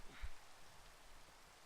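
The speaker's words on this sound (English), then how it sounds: "Really, Rain?" Steady in-game rain from Minecraft falls as a soft, even hiss with faint droplet texture, running throughout at low volume with no voices.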